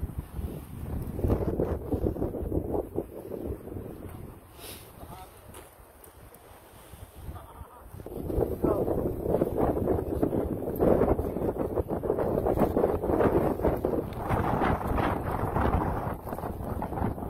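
Strong wind buffets the microphone in loud, continuous gusts that ease briefly midway at Stave Lake in Mission, British Columbia, while a person speaks over it.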